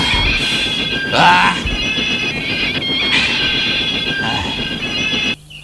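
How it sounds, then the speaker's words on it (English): In the video game Sodor Online, a heavy train rumbles with sustained metallic squeals and grinding as its engine's wheels lose grip on the rails, loud and close, ending abruptly. "at some point his wheels no longer gripped with the heavy train"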